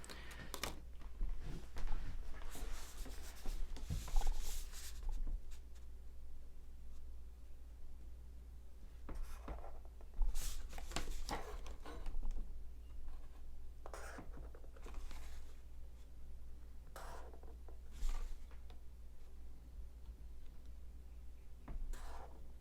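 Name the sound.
pencil drawing a geometric construction on paper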